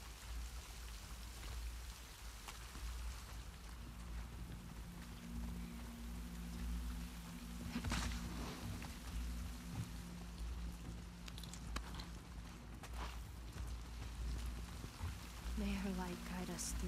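A rainstorm in the video game The Rat King, a steady hiss of heavy rain pattering on surfaces throughout, with faint low music and occasional louder splashes.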